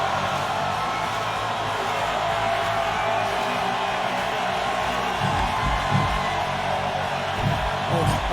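A wrestling crowd in the video game Fire Pro Wrestling World, a continuous dense roar of cheering and shouting with scattered whoops, loud and unbroken throughout.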